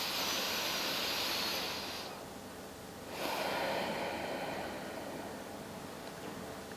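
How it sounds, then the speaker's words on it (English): Slow, deep breathing during a yoga practice for high cortisol: a long airy exhale fades out, a short pause follows, then a fresh breath swells in and flows steadily, close and soft with no talking. "Take one more breath."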